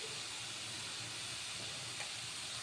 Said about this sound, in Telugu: క్యారెట్ తురుముని అయితే ఇలా కలుపుకొని వేయించుకుంటూ ఉండాలి కొంచెం సేపు